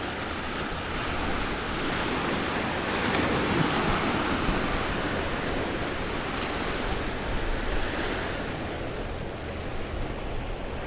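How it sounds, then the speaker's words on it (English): Ocean surf rolling in and out at a beach, a loud, continuous broadband roar that swells and eases slowly with no separate crashes, heard up close and alone without any voices. "from the beach, as you can hear the surf rolling in and out."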